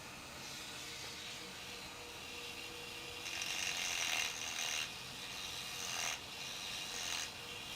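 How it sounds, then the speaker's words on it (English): A Dremel fitted with a small circular saw blade cuts a slot in a tobacco pipe, giving a faint, continuous high grinding whine with a few brief louder surges as the blade bites, close by and with no talking. "this little circular saw thingy on my Dremel. And I'm going to cut a slot."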